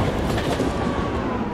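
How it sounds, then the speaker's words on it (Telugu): Golconda Express train in a realistic Indian train simulator game, rolling into a station between Warangal and Kazipet, with a loud, dense rumble of wheels and rail noise throughout. "మొత్తం ట్రైన్ లోపలికి అయితే వచ్చాము."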